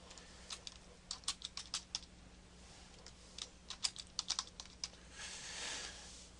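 A computer keyboard clicks under quick fingers as a shoot name is entered, giving soft, close keystrokes in short bursts with brief pauses and a faint steady hum underneath.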